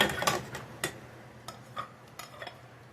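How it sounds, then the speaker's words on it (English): A spoon stirs potato and corn chowder in a pot, giving a handful of scattered clinks and soft scrapes against the metal, close and fairly quiet, with no talking. "Let me just stir that around a little bit."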